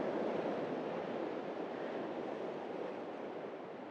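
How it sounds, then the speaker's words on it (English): Big ocean waves break on a North East Scotland shore, a broad continuous roar with wind that slowly fades over a few seconds. "Every now and then again we get a huge wave that comes in and just batters."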